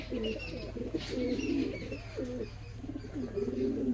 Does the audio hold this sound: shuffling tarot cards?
no